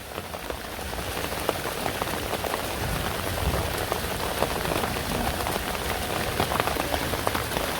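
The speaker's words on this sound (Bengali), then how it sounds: "তো বৃষ্টিটা কিন্তু অনেক দূরে নামছে" Rain falls outdoors in a village setting as a dense, steady patter of drops striking surfaces nearby, continuous throughout with no voices.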